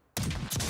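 A single loud, close gunshot blast comes from a sniper rifle in the shooter Delta Force, followed by a second sharp report half a second later, with no talk.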